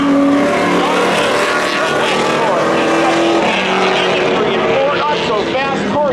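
Race cars launching in a spectator drag race at a speedway, a loud continuous engine roar filling the whole stretch with rising and falling revving, and a commentator's voice calling the race over it.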